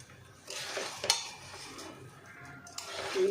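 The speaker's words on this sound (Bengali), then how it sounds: "মাংসের সাথে চালটাকে ভালো করে আমি মিশিয়ে নেব।" Rice being stirred into chicken in a pot for pilaf, with a few scraping, clinking spoon strokes against the metal and a soft background hiss, no talking.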